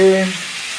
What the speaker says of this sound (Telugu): మళ్ళీ కొద్దిగా నూనె వేసి వంకాయ పోపు వేసుకుందాం